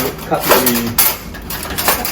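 Metal cutlery clinks and rattles in a kitchen during a festival cooking demonstration, several light clattering strikes mixed with dish sounds under ongoing talk.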